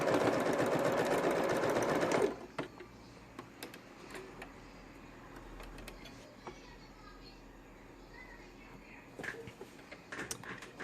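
A sewing machine stitching card slots on a wallet runs in a brief, close, fast whirring burst, then stops, leaving soft fabric handling and small clicks.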